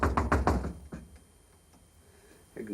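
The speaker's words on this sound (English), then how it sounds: "There's a knock at the door." A rapid series of four or five firm knocks on a door, close and loud at the start, followed by a couple of fainter taps, a quiet stretch and another thump at the end.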